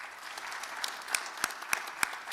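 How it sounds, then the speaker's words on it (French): An audience at a school spelling bee applauds a student, a soft, steady patter of many hands with a few sharper claps standing out, heard from a distance in a hall. "alors bien vouloir l'applaudir"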